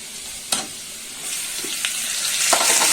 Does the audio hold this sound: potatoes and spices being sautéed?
yes